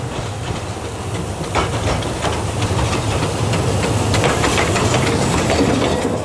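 Steam locomotive Sir Haydn climbing the valley on the Talyllyn narrow gauge railway in Wales, a steady rumble with scattered chuffs and clanks building slightly louder over time, no voices.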